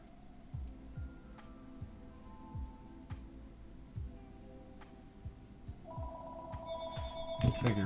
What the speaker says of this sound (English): Figures, the phone rings every time.